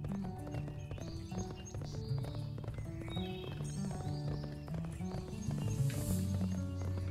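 Horse in the Barbie Wild Horse Rescue video game, with steady clip-clop hoofbeats and occasional whinnies layered over constant game music throughout.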